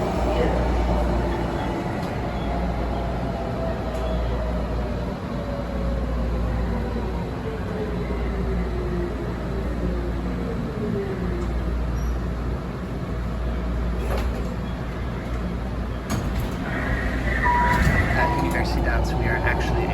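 Tren Urbano metro train in Puerto Rico running underground, a loud, steady rumble with a rising and falling whine as it moves through the tunnel.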